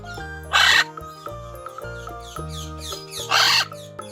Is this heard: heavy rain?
no